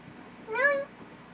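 A single short cat meow rises and falls over a low background hiss. It is fairly faint and no one speaks.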